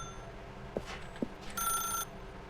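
A telephone rings in The Stanley Parable video game, a short electronic bell burst that is fairly faint, preceded by a couple of soft knocks.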